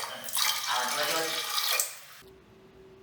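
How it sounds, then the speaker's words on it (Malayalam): Lentils being washed in water for sambar, a close splashing and running-water rush lasting about two seconds before cutting off to a quiet room hum. "അതൊന്ന് വെള്ളത്തിലിട്ട് നല്ലോണം കുതിർത്ത് കഴുകിയ ശേഷം നമുക്കിനി കുക്കറിലിട്ട് അത് വേവിച്ചെടുക്കണം"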